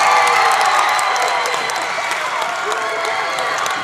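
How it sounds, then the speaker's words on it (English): A large crowd at a high school basketball game roars and cheers continuously, loud and sustained, with whistles and shouts mixed into the din. "And the crowd blew the roof off this place."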